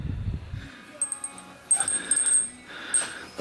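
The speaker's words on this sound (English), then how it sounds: "if you still hear the jingling, that's it's because I found an old bell" An old bell jingling outdoors beside a BMW motorcycle: several light, bright metallic rings in scattered bursts, fairly close, following a brief low rumble at the start.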